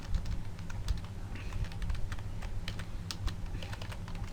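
Steady, fairly quiet clatter of typing on a laptop computer keyboard, irregular key taps running throughout with no talk.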